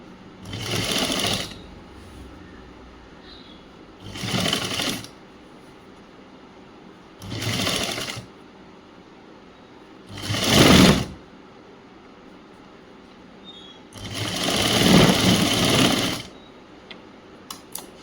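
A sewing machine stitches fabric for a government school uniform chudi top in five separate bursts of rapid whirring, each a second or two long and divided by quiet pauses, loud and close.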